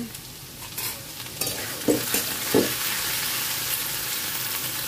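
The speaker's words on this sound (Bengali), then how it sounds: "এদিকে আলু ভাজা হচ্ছে" Potatoes frying in a pan give a steady, moderate sizzle, broken by several soft scraping stirs and knocks, with no voices.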